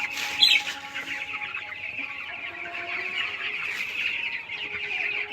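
Broiler chickens on a poultry farm cluck and murmur continuously, one louder squawk standing out near the start over a steady flock chatter.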